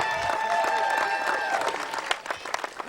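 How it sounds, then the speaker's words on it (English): A crowd at a youth Little League baseball majors championship applauds both teams, a dense round of clapping that carries on steadily and then tapers into scattered claps, with faint voices underneath. "Everybody give both teams a big round of applause."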